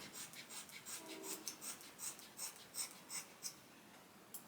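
Scissors snip through the hair of a blonde synthetic wig in a quick series of about a dozen crisp cuts, close and quiet, with no talking.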